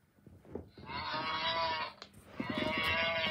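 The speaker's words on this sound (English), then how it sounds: "And she's playing the cow sound." Cow moo played through the small speaker of a Loona robot pet, two drawn-out bovine lowing calls with a short break between, clear and close, with a few faint mechanical clicks and no talking.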